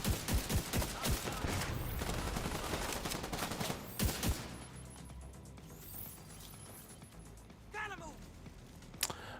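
Rapid bursts of gunfire from The Division 2, in a Season 10 build test, crack in quick succession, then grow sparser with scattered single shots and game effects while a player talks over them.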